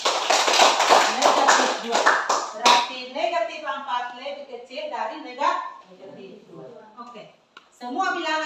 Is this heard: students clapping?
yes